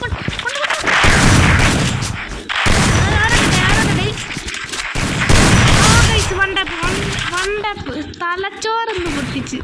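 Gunfire from the Free Fire Max mobile game comes in several loud bursts and volleys, with a voice talking over and between the shots.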